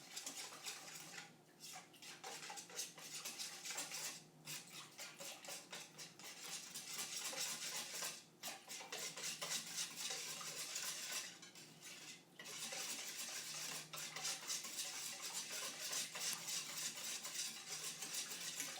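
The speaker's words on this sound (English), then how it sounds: "You just take all these ingredients and mix them together. Takes a minute for the peanut butter to mix in." Peanut butter, cornstarch and other ingredients being stirred into Thai peanut sauce: a steady, close, continuous scraping of a utensil against the bowl that runs with few pauses, and no voices.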